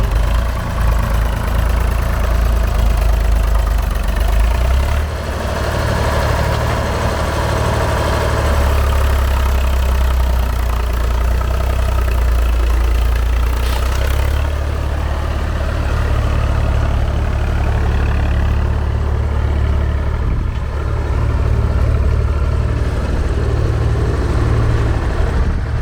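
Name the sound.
digger and tractor engines idling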